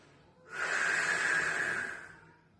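One long, forceful exhale through the mouth during a Pilates exercise, a breathy hiss that swells in quickly, holds for about a second and a half, then fades out. It is close and alone.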